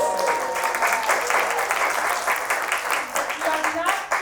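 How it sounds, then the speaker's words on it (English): An audience at a live women's suffrage centennial event in St. Paul, Minnesota breaks into sustained applause, a dense, loud wash of clapping that carries on throughout, with speech-like sound blending in. "That's worth applause."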